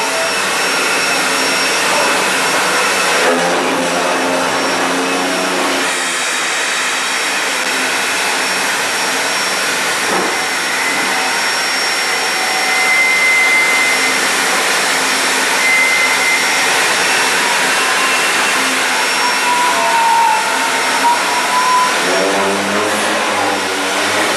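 A Texas State Railroad steam locomotive runs in the engine house, producing a loud, continuous roaring hiss that fills the space for over twenty seconds with no talk.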